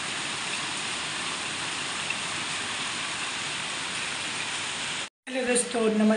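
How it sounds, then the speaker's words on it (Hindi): Heavy monsoon rain pours down in Mumbai in a dense, steady roar, cutting out briefly near the end before resuming with faint voices. "इसको बोलते हैं मूसलाधार बारिश।"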